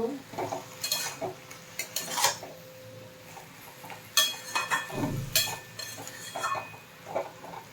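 A utensil stirs pui shaak (Malabar spinach) in a pan after salt goes in, with close, irregular scrapes and clinks against the metal over a low sizzle.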